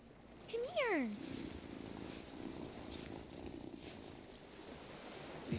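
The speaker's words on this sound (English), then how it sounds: "We love this cat." A cat purring in the video game Wylde Flowers, a soft continuous rumble under a steady ambient bed, briefly preceded by a short rising-and-falling meow-like cry.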